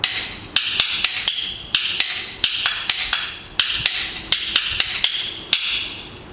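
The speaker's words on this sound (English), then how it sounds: "the paiban, 3 pieces of wood that you collect together as a clapper" Sharp wooden clacks from a paiban, the three-piece Chinese opera clapper, struck in an irregular rhythm of about twenty bright, dry hits, loud and close with no talk.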